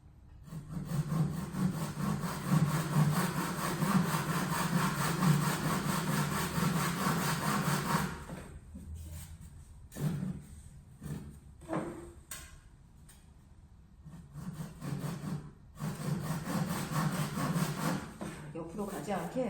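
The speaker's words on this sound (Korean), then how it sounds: "이 상태에서 톱질을 계속 이어갈게요" A hand saw cuts through wood in steady rasping strokes for about eight seconds. Several shorter bursts of sawing follow, broken by gaps, while a voice speaks quietly between them.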